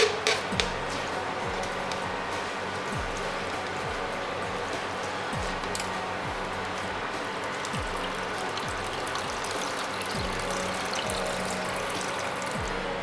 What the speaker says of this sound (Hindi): इसमें हमने 800 ml पानी डाला।